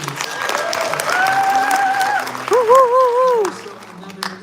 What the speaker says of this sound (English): Can we give Tito Boy Abunda another round of applause, please?